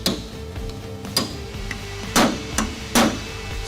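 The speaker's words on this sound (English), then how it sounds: "Remove the rivets from the basket assembly using a punch and hammer." Sharp metallic hammer strikes on a punch driving rivets out of a Rekluse clutch basket assembly for an M8 / Twin Cam motorcycle, several irregular blows, two louder ones near the end, close and clear with no talking.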